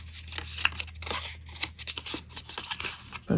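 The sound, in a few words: scissors cutting a corner of a paper card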